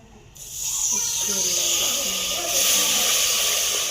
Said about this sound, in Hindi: तो अब हम इसमें अपना दूध डालेंगे।